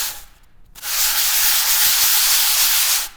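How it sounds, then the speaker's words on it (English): A foam block for shaping climbing holds is rubbed across sanding belt strips glued to a board, making a loud, steady abrasive rasp that starts after a brief pause and continues without a break. "I just cut a sanding belt, glued them 2 strips down on the board, and now I can level my foam really easily"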